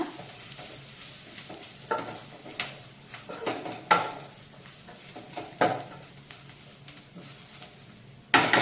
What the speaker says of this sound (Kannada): ನಾನು ಕೊಬ್ಬರಿನ ಹಾಕೋತಿದ್ದೀನಿ ಹಾಕೊಂಡು ಫ್ರೈ ಮಾಡ್ಕೊಳ್ಳೋಣ